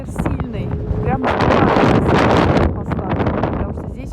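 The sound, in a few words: strong wind blowing into the microphone in a city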